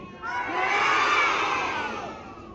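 A crowd of children at a school kindergarten graduation cheers and shouts together, a loud, sustained swell of high voices that rises and then eases off.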